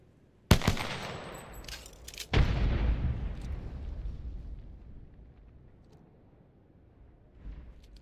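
A frag grenade goes off in Apex Legends with a sharp, loud blast, and a second heavy explosion follows about two seconds later. Both roll into a long rumbling decay that fades over several seconds.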